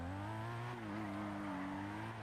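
A sustained engine drone from a car in a racing video game as it drifts, a steady layered hum with slight pitch wavering, continuous and fairly loud.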